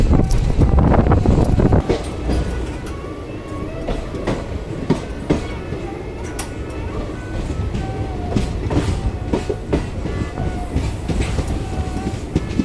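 A sleeper class train on the Jodhpur to Ahmedabad line rounds a curve near Samdari Junction, with a loud, steady rumble, clattering wheels and sharp repeated clicks and rattles throughout.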